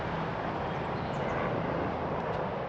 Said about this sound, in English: apart from the helicopter that's flying over